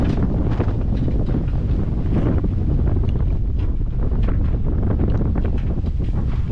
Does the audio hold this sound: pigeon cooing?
no